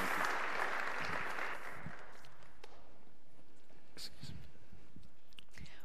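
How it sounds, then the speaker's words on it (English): A church congregation's applause fades out over about two seconds, leaving a quiet room with faint rustling and soft footsteps. "So our applause is our way of saying God bless you."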